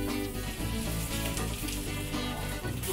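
Scallion oil sizzles and fries steadily in a pan while spices are cooked for traditional braised beef, a dense continuous crackle that stays close and loud from start to finish with no talk.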